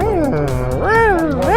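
A man imitates a panther with a drawn-out vocal meow, a rising and falling cat-like wail that lasts about a second and a half. It is loud and close, in a casual setting among football players.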